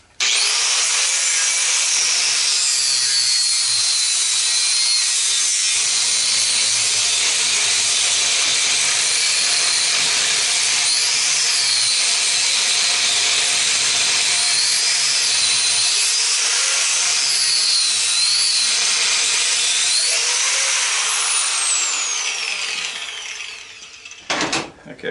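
Abrasive cutting wheel on a power tool grinds into the metal casing of an old golf cart charger, a loud continuous high-pitched whine with shifting pitch that runs unbroken for about 24 seconds before cutting off abruptly.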